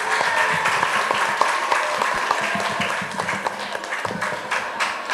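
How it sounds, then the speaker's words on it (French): Applause from a radio show studio audience at a quiz battle, a dense steady patter of many hands clapping for about five seconds, moderately loud with no pauses. "On les applaudit tous."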